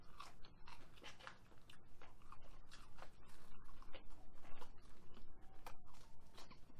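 Close crunchy bites and chewing on a McDonald's spicy chicken nugget, a steady run of crisp crackles and mouth sounds with no talking.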